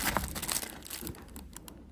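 A small gift packet is crinkled and torn open close by, a dense burst of papery rustling over about two seconds that gradually softens, with no talking.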